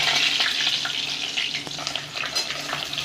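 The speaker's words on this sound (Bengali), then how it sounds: "তেল গরম হয়েছে, আমি আলু চিকেন করব, তাই আগে আলুটা ফ্রাই করে নিচ্ছি" Potatoes fry in hot oil in a wok, a loud bubbling sizzle that eases slightly midway, with a brief stirring knock and no talk.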